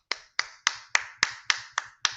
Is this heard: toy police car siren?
no